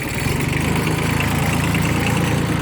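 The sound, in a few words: Kubota B6200 tractor engine running with mower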